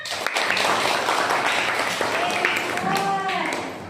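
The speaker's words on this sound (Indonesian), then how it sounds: "Tepuk tangan." Brief applause from a classroom of pupils during a primary school science lesson, a dense patter of hand claps blended with children's voices and chatter, close and moderately loud throughout.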